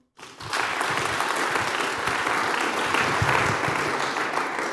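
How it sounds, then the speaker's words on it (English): Audience applause after a startup pitch at a PitchUP 2024 event, a steady sustained round of clapping from a crowd that starts abruptly and holds for several seconds. "Just give him one more round of applause, guys."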